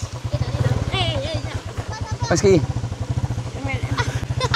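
A motorcycle putters close by at a steady, rhythmic low chug throughout, with people talking and calling out over it.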